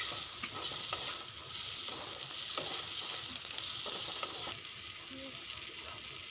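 Pasta ingredients sizzle lightly in a pan with salt as a spoon stirs them, producing a steady hiss of frying with repeated scraping and clinking strokes close by.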